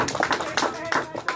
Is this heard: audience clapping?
yes